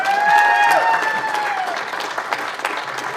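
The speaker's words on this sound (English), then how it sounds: "Keep that applause going." Audience applause at the opening ceremony of the 2021 Festival of the Arts, a steady crowd clapping throughout with a sustained tonal hum or feedback layered over it.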